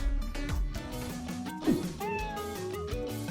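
A small adopted kitten meows once or twice, briefly and close by. The meows are partly masked by continuous background music with sliding tones.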